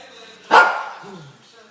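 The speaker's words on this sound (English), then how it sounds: "The dogs are going crazy." Dogs barking at an outdoor pork roast, one sharp burst that fades over about a second amid background talk.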